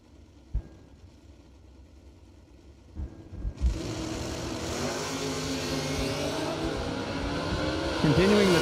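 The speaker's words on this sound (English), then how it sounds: "Behind a big wheelie with a red light, Max Brewer" Drag racing cars at a Christmas bracket race on a strip, with a few sharp pops, then engines roaring up loud and sustained from mid-clip, sounding as if recorded near the track, with a commentator's voice mixed in.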